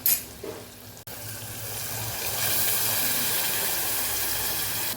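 Water poured into a hot pan of spiced potatoes gives a sharp splash, then a steady close hiss and sizzle that builds and holds to the end.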